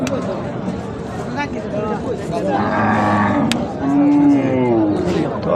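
Cattle mooing at a crowded cattle market before Eid, several drawn-out lowing calls from nearby animals amid the busy chatter and bargaining of people.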